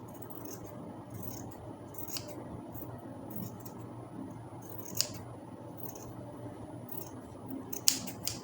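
Scissors trim excess fabric from an overbust cupped corset, giving soft repeated snips with a few sharper closing clicks, close up over a steady low room hiss.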